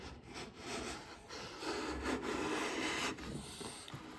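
A Wood River No. 5 1/2 jack plane takes very fine shavings off white oak, giving soft, quiet rasping strokes that repeat in a steady rhythm with no voices.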